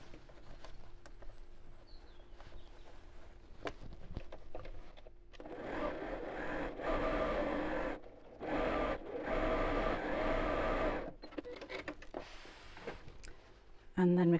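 A sewing machine stitching around the seam of a drawstring Christmas stocking, running in a few bursts of steady whirring with pauses between, close and fairly quiet, with brief talk.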